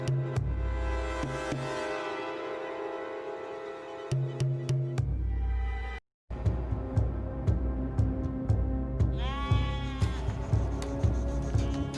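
A flock of sheep in Ladakh bleats repeatedly, several overlapping calls rising and falling over a steady low background, fairly near and continuous throughout.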